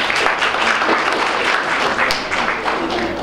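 A crowd at a book launch applauds steadily, dense clapping filling the room without pause for a few seconds.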